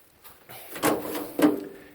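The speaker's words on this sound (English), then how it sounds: "And it has the back doors which open up" Back doors of a van storage compartment swinging open, with two distinct clunking, rattling bursts about half a second apart, close and moderately loud in a quiet space.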